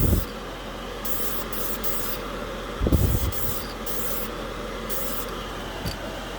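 A steady hissing spray of spray-can primer onto a flexible piece of plastic runs continuously, with a couple of brief louder bursts and faint handling noises.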